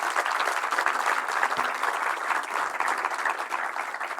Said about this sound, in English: Let's give them a big applause for high quality research.